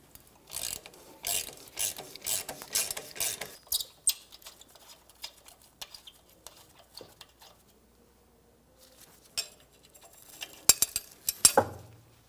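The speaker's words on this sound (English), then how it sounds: "I can use my ratchet on the back side." A ratchet clicks rapidly in close bursts while loosening 12mm bolts on the fuel tank of a 1992-1996 Toyota Camry. Scattered metallic taps and handling noises follow, ending with a few louder clanks.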